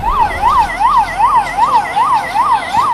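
An ambulance siren wails in a loud, steady rising-and-falling pattern, about eight even cycles, close and dominant with no voices over it.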